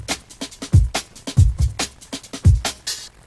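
A dry drum break with no reverb, retriggered into a fill: close, punchy kick thumps and crisp snare and hat hits in a quick, syncopated pattern, played alone.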